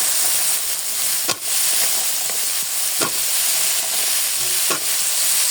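Stems and potatoes tossed into hot, sizzling spice paste for a Bengali pangas fish curry, giving a steady bright fry-hiss with a few sharp stirring scrapes, close and alone without voices.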